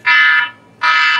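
A gas detector for LPG at a science exhibition sounds its alarm buzzer in two loud, steady electronic blasts, each about half a second long, with a short gap between them and no talk.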